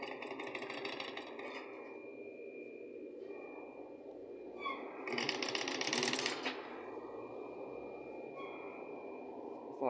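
A sewing machine stitching the damaged side of an Audi A3 seat's upholstery hums in a steady low run, with a brief brighter, louder surge midway, recorded close by.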